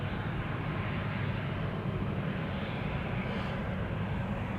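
Airliner taking off at Amsterdam Schiphol Airport, a broad steady jet engine roar that fills the clip, loud and constant with no other sounds on top.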